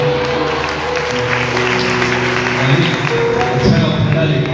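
A congregation applauds during a live worship service in Iqbal Town, Islamabad, with sustained loud clapping mixed with music tones and a voice speaking over it.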